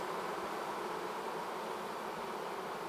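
A dense, steady hum of honeybees buzzing inside a beehive, a continuous close-up drone with no other sounds.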